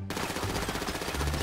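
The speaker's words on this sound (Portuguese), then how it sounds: "Começa com AK do mal, vai, mal, dá uns 15 tiros" An AK rifle fires a rapid, continuous automatic burst inside GTA 5 roleplay gameplay, loud and dense for the whole moment with no pauses and no talking over it.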